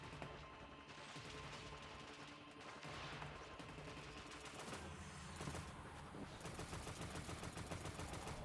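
Rapid sustained auto rifle fire in the futuristic shooter Destiny: Rising, dense repeating shots layered over game effects and explosions, loud and continuous throughout.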